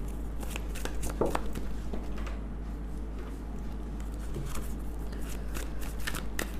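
Tarot cards are shuffled by hand, a quiet, close run of soft riffling and slapping card sounds over a low steady hum, with no talking.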